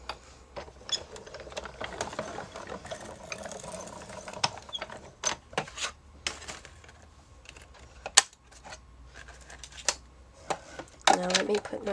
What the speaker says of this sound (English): So I'm going to go ahead and run that through my machine.